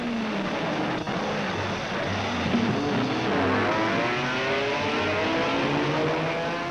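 Sports cars in road racing roar past one after another, engines rising and falling in pitch as they accelerate and shift, a steady loud drone of several machines at moderate distance.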